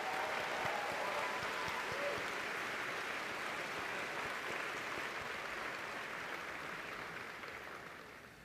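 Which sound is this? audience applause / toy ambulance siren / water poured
audience applause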